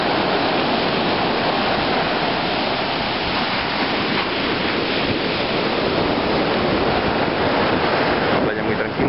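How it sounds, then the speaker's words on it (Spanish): Surf washing onto a quiet, undeveloped beach used by nesting turtles, a steady, continuous broadband rush of waves and wind noise throughout, loud and close. "Una playa muy tranquila, no hay servicio, pero es una playa hermosísima."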